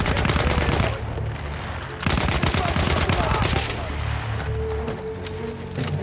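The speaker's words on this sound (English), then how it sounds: "Silence this machine gun." Machine-gun fire in a Battlefield 1 World War I battle at Cape Helles, with dense bursts of rapid shots and explosions running nearly the whole way, loud and close, over a busy battlefield din.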